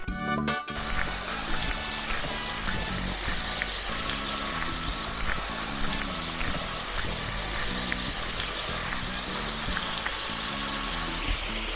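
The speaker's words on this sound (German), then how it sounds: "Ein kleiner, aber wirklich schöner Wasserfall da hinten." A small waterfall along a mountain hiking trail sends up a steady, continuous rush of falling water, moderately loud and unbroken throughout, with no voices.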